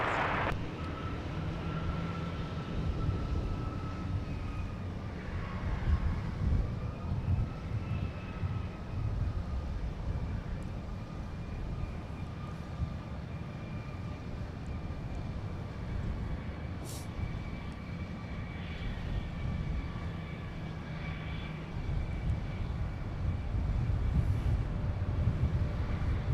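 Airplane taking off from a runway at Minneapolis–St. Paul (MSP) airport: a faint, distant, steady jet engine roar with a rising whine over constant background noise, no voices.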